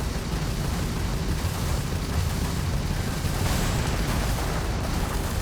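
Missiles blow up enemy ships in a Starfield space battle as a steady, dense roar of explosions and rumble, loud and continuous with no clear gaps.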